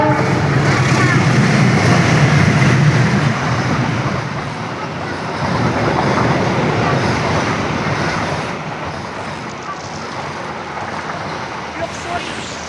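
A Taksaka passenger train rushes past on the rails, a loud, broad roaring rumble that swells and slowly fades over several seconds, heard up close without talk.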